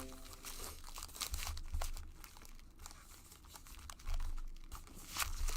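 Trading card packs being shuffled by hand during a live card break, with a steady papery crinkling and rustling across the whole stretch and a few louder crunchy bursts near the end, close and with no talk.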